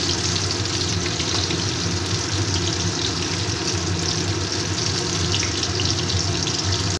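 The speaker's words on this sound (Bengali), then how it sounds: "এবার আরেক দিকটা উল্টে দিচ্ছি, দিয়ে আবার অন্য দিকটা ভেজে নিচ্ছি।" Stuffed eggplant frying in a pan, a loud, dense, continuous hiss and crackle of hot oil close by, steady throughout with no voices.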